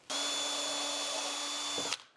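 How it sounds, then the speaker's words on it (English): Power drill with a 1/16 inch bit boring through wood: one loud, steady high-pitched whine lasting under two seconds, close up, then cutting off abruptly. "We're gonna use a 1/16 inch drill bit,"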